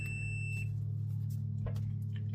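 A thin, steady electronic beep sounds for under a second, a multimeter continuity tone while testing a Cobra 148F GTL CB radio, then cuts off, leaving a low hum and faint clicks.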